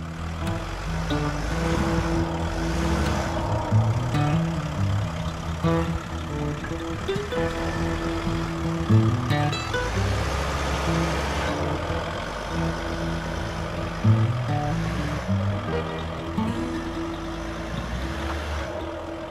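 An off-road vehicle creeps forward on rough terrain, its engine a steady mid-pitched rumble close by with bumps and shifts in load, no talking.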